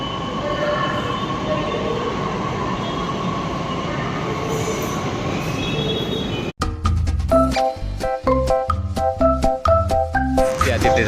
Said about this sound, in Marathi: त्यात मेट्रो स्टेशनमध्ये आलेलो आहे मी.